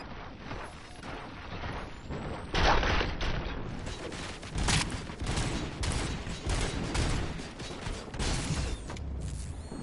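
Gunfire in the RoboCop video game: bursts of rapid fusillade and mechanical clatter with louder surges, continuous and close, no talking.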